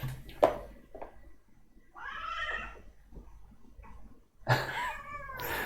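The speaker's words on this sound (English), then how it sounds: "Can you hear my cat?" A house cat meows repeatedly nearby, several drawn-out, wavering cries with quieter pauses and light rustling between them, the last call loud and strained.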